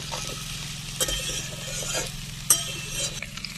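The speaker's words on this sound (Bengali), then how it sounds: "টমেটো সিম টমেটো আলু আবারও একসাথে একটু ভেজে নেব" Tomato, flat beans and potato frying together in a pan, a steady soft sizzle with a low hum beneath and occasional spoon scrapes and stirring clatters.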